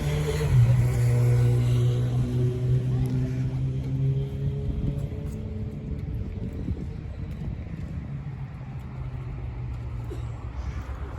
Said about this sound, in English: It's that Honda Rebel.